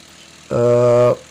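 A tractor engine near a rice threshing site in a Baloch village in Dera Bugti, Balochistan, gives one short, loud, steady mechanical hum lasting under a second and cutting off abruptly, with no talk over it.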